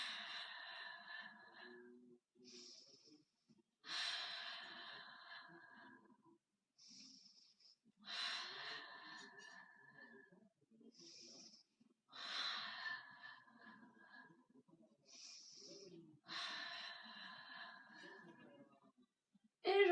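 Slow, deliberate breaths during a Pilates exercise, about five cycles of audible airy exhales and softer inhales, close and quiet with pauses between.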